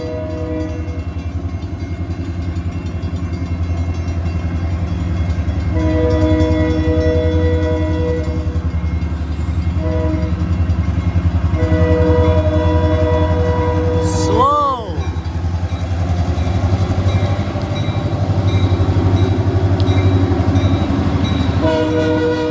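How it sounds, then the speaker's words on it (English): A Grand Rapids Eastern freight train with a single locomotive, number 2104, hauls grain cars past with a loud, continuous rumble. Its horn sounds briefly partway through, with a falling pitch. "One engine and a bunch of grain cars for Lowell."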